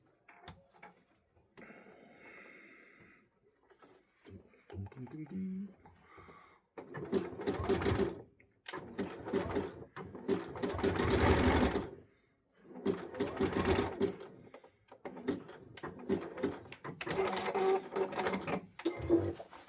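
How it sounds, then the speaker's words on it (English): A sewing machine tacks down stretchy fold-over trim in bursts of rapid mechanical stitching, several runs of a few seconds each with short pauses between, fairly close and steady, after a quieter stretch of handling at the start. "And then I just tack that down like that."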